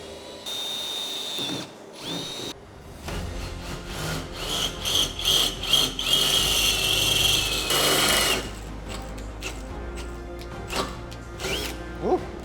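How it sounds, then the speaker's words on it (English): A power drill whines and grinds through perspex in several bursts, with a high-pitched squeal and scraping between short pauses. "Drilling perspex."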